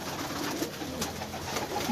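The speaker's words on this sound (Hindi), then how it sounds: "ये मज वाले कबूतर हैं जो आपको दिखा रहे हैं" Mach-breed pigeons from the Chunian loft of Ustad Rana Razzaq coo softly and continuously at close range, their low murmuring calls layered over a dense, steady background.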